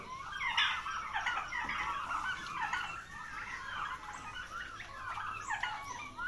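Several turkeys on a turkey farm gobble repeatedly in overlapping bursts, loud and close, a continuous chorus of rapid warbling calls with no pauses.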